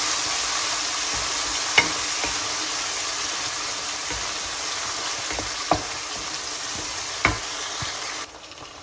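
Tomato chutney sizzling in a pan while being stirred, a continuous frying hiss broken by a few distinct utensil scrapes against the pan, close and fairly loud, ending in a quieter tail, with no speech.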